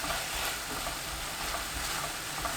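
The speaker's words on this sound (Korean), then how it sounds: "고춧가루 1큰술, 굴소스 3큰술, 진간장 2큰술, 올리고당 1큰술 넣고 센 불로 30초 볶습니다." Chili powder, oyster sauce and soy sauce are stir-fried over high heat, giving a dense, steady hiss and crackle with faint stirring scrapes throughout.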